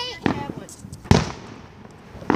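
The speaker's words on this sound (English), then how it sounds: "Just turn off the fireworks, guys." Fireworks go off at a Fourth of July celebration, with a few sharp, loud bangs spaced apart against a quieter background, and faint voices in between.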